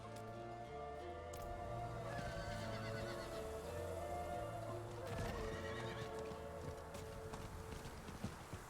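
A horse in the video game Diablo 4, with rhythmic clip-clop hoofbeats and snorting whinnies over a low ambient game score, fairly quiet overall.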